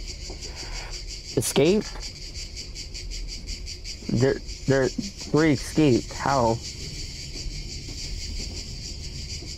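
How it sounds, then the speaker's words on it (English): Cicadas droning steadily through a ghost-train station scene in a video game, a dense buzzing bed that runs under the whole stretch while a few voices speak over it. "Why do you have cicadas?"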